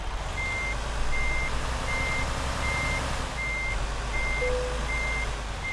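Steady reversing beeps repeat at an even pace from a truck in the American Truck Simulator game, sounding clearly over a constant low engine rumble.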